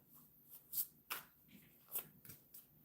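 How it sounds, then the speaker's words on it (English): A deck of playing cards is shuffled close by, a few quiet, crisp riffling bursts spaced irregularly over about three seconds with soft handling noises between them. "Let me shuffle. I forgot to shuffle."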